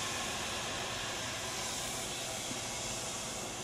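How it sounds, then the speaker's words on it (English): A steady, dense sizzle and hiss of vodka hitting a hot pan fills the whole stretch without breaks, loud and close, with no voices. "Hear that? Oh, yeah. It's sizzling."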